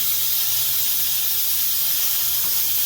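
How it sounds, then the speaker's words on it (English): Steam hissing steadily out of a pressure cooker of beef stew, a loud, continuous, close release with no break. "we are going to remove the steam out of this"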